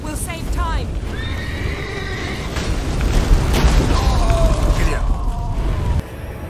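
A horse in The Witcher 3 whinnies loudly and close up, with rattling mechanical and rumbling game sounds and a second neigh later. Talk is heard over it.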